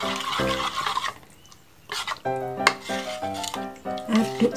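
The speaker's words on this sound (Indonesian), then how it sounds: "Aduk sampai tercampur rata." A utensil stirs a thin, runny batter for crispy fried catfish in a bowl, clinking and scraping in short bursts with a brief pause midway.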